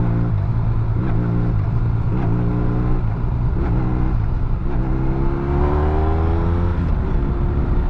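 A Honda VFR 1200 F motorcycle engine drones loud and close as the throttle is eased off, its steady rumble shifting pitch while drivetrain clunk from a known fault comes through as the revs change.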